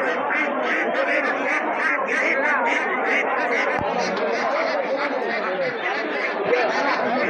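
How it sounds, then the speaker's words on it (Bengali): At a busy village duck market, dense flocks of ducks quack constantly and overlap in a loud, close chorus, with the chatter of people underneath. "এটা হচ্ছে হাঁসের হাট"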